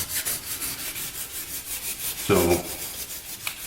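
Wet sanding of gelcoat with 600-grit sandpaper and water: a rhythmic back-and-forth rubbing repeated in even strokes, close and fairly quiet, with a brief louder squeak partway through.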